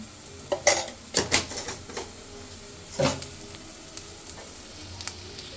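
Sea crab and spices are stirred in a frying pan, with a few sharp scrapes and clinks of a utensil against metal over a soft, continuous sizzle.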